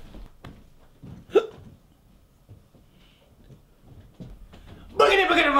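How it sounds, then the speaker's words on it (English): A person hiccups a couple of times, short sharp catches around the start, followed by a loud burst of noisy sound at the end; mostly quiet between. "Why don't you try to scare the hiccups out of me?"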